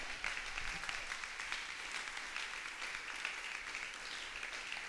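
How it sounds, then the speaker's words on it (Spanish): A church congregation breaks into applause for the Lord, a dense, even clapping that stays at a steady, fairly distant level with no talk in it. "Brindo un aplauso al Señor."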